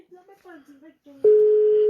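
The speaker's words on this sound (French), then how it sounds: "ça sonne chez ma mère" A telephone ringing tone on a call to a mother's home sounds as one steady, loud, unbroken tone. It begins after a stretch of a man's speech and continues alone to the end.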